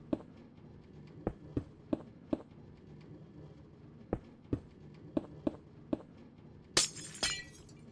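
Glass blocks being placed in Minecraft, heard as a series of sharp clicks and taps at irregular intervals, with a brighter shattering glass sound near the end, over a quiet background and with no talk.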